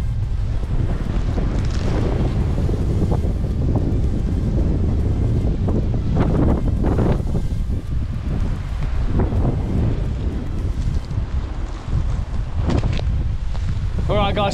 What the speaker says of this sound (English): It is absolutely blowing a gale